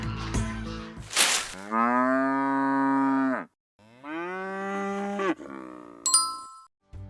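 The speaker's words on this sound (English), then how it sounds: "It's a cow!" A cow moos on a farm in two long, loud, drawn-out calls, close by, with a bright bell ding sounding right at the end.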